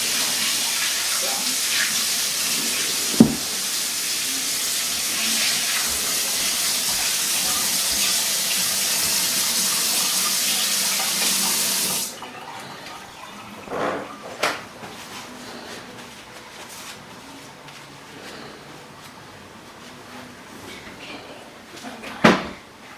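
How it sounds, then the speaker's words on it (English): A tap runs steadily while hands are washed, a loud continuous gush for about twelve seconds that then shuts off, followed by quieter scattered knocks and clunks in a kitchen. "So I'm just gonna wash my hands."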